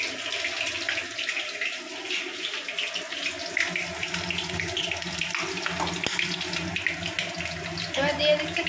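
Tap water runs steadily in a kitchen sink while something is rinsed during cooking, a continuous close splashing hiss with no pauses.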